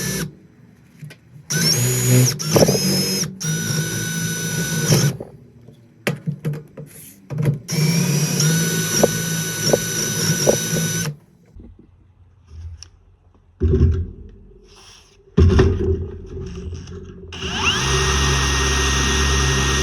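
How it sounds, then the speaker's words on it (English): A step drill bit reams out a hole in the case of a Toyota A131L automatic transmission, the power drill whirring in several bursts of varying length with pauses between, its pitch shifting as the bit bites, close and loud. "Just using a step bit, since all this needs to get reamed out anyway."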